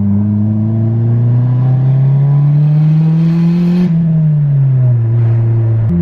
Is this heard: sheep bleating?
no